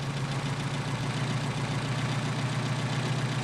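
A Mercedes 190SL engine idling steadily on Solex PHH44 carburetors during idle adjustment, a continuous low throbbing hum with rough engine texture, close and constant with no talk.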